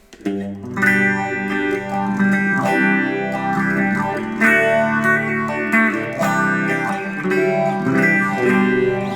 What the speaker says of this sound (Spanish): Ese es un phaser.